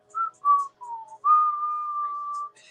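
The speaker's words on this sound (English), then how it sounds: "I can't whistle real good" A person whistles a few short notes and then one long sustained tone, solo and close, a little unsteady, with no talk over it.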